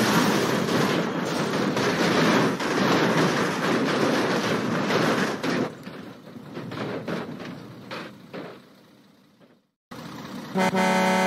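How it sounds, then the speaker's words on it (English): A loud train rumbles past nearby, a dense roar that holds steady and then fades away, followed by a brief silence and a sharp return of sound at the end. "my god, train!"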